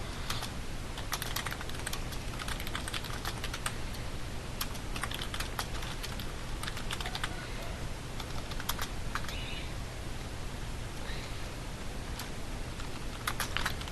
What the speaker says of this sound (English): And then just type in your message.